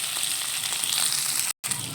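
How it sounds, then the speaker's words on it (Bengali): Diced potatoes and garlic fry in a pan with cumin, giving a loud, continuous close-up sizzle that cuts out for a moment near the end, with no talking. "আলুটার সঙ্গে একসঙ্গে ভেজে নেবো।"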